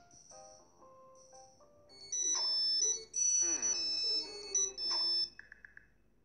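A phone ringtone rings out in the Scooby-Doo Mystery Incorporated video game, a repeating electronic melody of bright tones that swells louder midway and ends with a few short beeps, with no talking over it.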